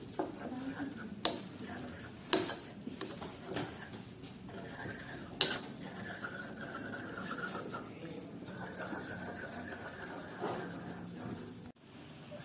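Ground food is mixed with water in laboratory glassware, giving close clinks and taps of glass and metal amid soft stirring, while a voice talks faintly now and then.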